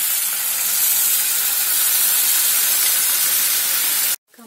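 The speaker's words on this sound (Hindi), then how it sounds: "अब हम उसमें मसूर डालते हैं।" Whole masoor lentils go into sizzling, fried spiced masala in a pan, giving a loud, continuous hiss and crackle that cuts off abruptly near the end.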